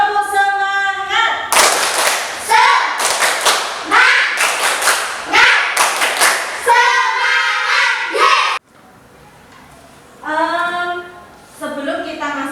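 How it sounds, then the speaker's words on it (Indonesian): Classroom of children doing a rhythmic spirit clap, sharp patterned claps and thumps in quick sets interleaved with chanted voices, loud and close, ending with a pause and a few more chanted calls. "mari kita melakukan tepuk semangat terlebih dahulu"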